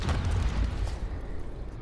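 A flashbang grenade in the game Rainbow Six Siege bursts with a deep, heavy boom and a rumbling low-end wash that fades out over about two seconds.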